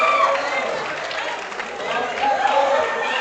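Crowd cheering and shouting for a powerlifter at a national powerlifting championship, a steady wall of loud, close crowd noise that holds for the whole stretch and swells slightly toward the end.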